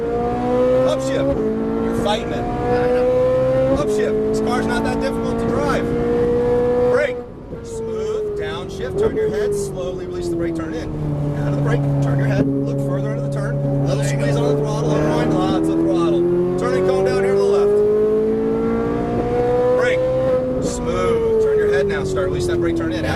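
A Ferrari 458 Italia on a race track, its engine note climbing and falling steadily through throttle changes and shifts for the whole stretch, loud and close, with an instructor talking over it.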